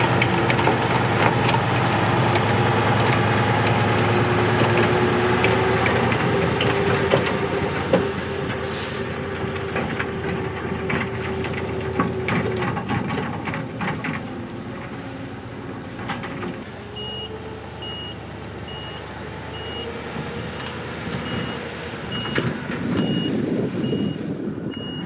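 A thirty-year-old TAM 260 T 26 tipper truck driving toward a stone depot on gravel roads: continuous loud engine rumble with rattling, and intermittent reversing beeps in the later part.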